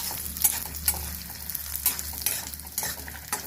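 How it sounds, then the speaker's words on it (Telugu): Urad dal, cumin, dried red chillies and green chillies fry in hot oil in a kadai for an Andhra-style coriander tomato chutney, a soft sizzle under frequent light scrapes and clicks of stirring. "మినప్పప్పు, జీలకర్ర, ఎండుమిర్చి, పచ్చిమిర్చి, కొంచెం కలర్ వచ్చేంత వరకు వేయించాలి"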